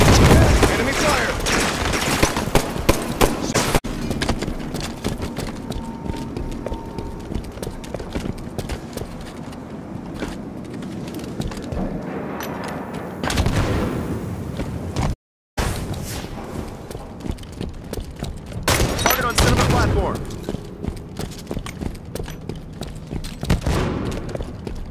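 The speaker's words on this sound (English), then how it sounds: "Enemy fire." Rapid bursts of enemy gunfire in a multiplayer shooter video game, dense and continuous across the clip with clattering impacts, mixed under game effects and players talking.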